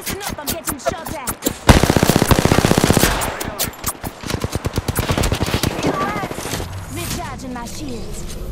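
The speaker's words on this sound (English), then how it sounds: "Listen up, I'm getting shot at." Gunfire in the video game Apex Legends: rapid automatic bursts and single shots crack repeatedly over a busy mix, with a sustained machine-gun stretch in the middle and voice lines spoken over the shooting.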